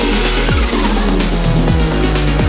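Toyota Supra 45th Anniversary sports car driving hard, engine loud and close with repeated gear-change drops and a bright tire squeal running alongside.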